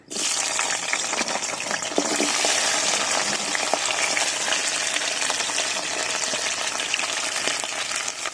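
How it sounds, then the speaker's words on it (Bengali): Field crabs drop into hot oil in a wok and set off a loud, continuous crackling sizzle with sputtering pops that lasts the whole time, with no voices. "তেলের মধ্যে দিয়ে দেবো কাঁকড়া"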